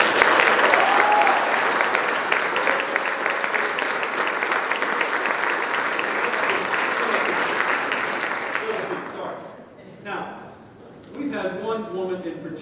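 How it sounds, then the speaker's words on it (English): Audience applause at a high school football awards night, a dense steady clapping that fills most of the stretch before fading out, followed by a few spoken words. "Can we please give a special round of applause before we do that?"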